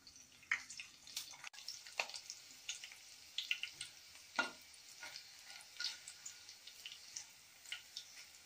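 Mustard seeds, garlic and dried chilli crackle in hot oil for a tempering, faint scattered pops and soft sizzle with light stirring, quiet and without talk.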